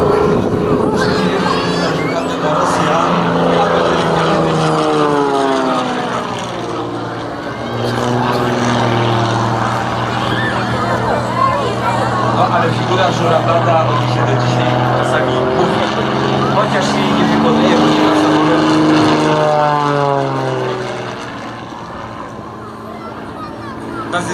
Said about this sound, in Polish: Samolot po prostu kręcił się w powietrzu w nieoczekiwany dla widzów sposób.